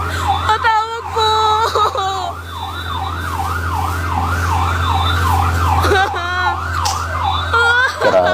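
A fire truck siren wails in a steady repeating up-and-down sweep as it arrives at a fire, loud and close over a low engine rumble, with voices briefly heard at the start and end.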